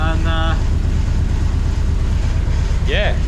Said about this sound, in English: sorted the idle out, it's now idling at 1000 RPM, quite happy